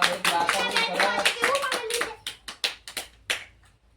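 Young schoolchildren in a classroom clap in a quick, dense burst while voices chatter, then the claps thin out into a handful of scattered, separate slaps before stopping.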